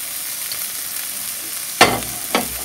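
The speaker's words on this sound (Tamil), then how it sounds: "என்ன பண்ண போகிறேன்னா வெஜிடபிள்ஸ் சேர்க்க போகிறேன்." Vegetables such as peas and carrot sizzle steadily in a hot pan, with two distinct scraping stirs of a spoon breaking through the frying hiss near the end.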